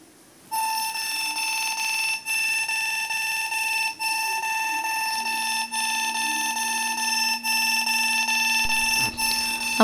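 An Android phone's anti-theft alarm rings loud and close, a sustained electronic tone with regular pulsing beats repeating for several seconds before it cuts off near the end.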